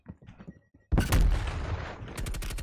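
A Semtex grenade blows up in Call of Duty Cold War with a sudden loud close blast that booms and rumbles for over a second, then trails into further crackling gunfire.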